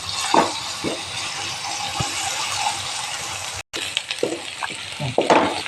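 Ginger frying in a pan with onion and turmeric, a close sizzle with scraping stirring clatters and knocks, brief silence midway.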